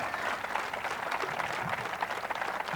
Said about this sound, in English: Can we have a big round of applause for Mr. VVS Laxman?